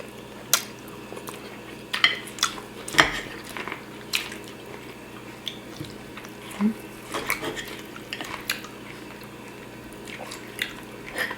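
A home-roasted Thanksgiving turkey being eaten with utensils alongside beans and carrots, with light cutlery clinks and scrapes against a plate scattered over quiet chewing, close and fairly soft.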